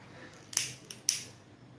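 A lighter clicks twice to light sage, two crisp close snaps about half a second apart with small mechanical rattles between them, over a quiet room.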